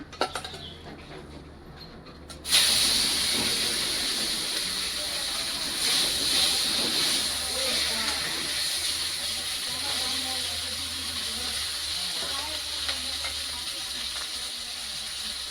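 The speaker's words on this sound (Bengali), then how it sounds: "এখন মাছের মাথাগুলো ভাজবো।" Rohu fish heads frying in hot oil: after a short quiet start, a loud, sudden hissing sizzle erupts and keeps going steadily, close by, with faint crackles and no speech.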